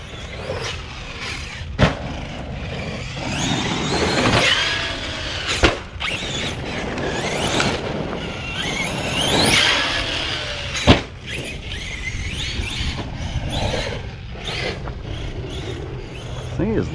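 A small electric motor on a Traxxas Sledge RC monster truck whines and revs up and down loudly, with sharp clicks and clattering bursts as the truck moves nearby.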